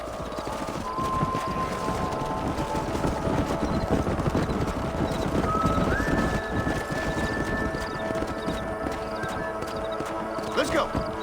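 Horses in Red Dead Redemption 2 trot with a steady clip-clop of hooves amid a dense, busy background of rumbling and game sounds, with a brief high whistle-like tone.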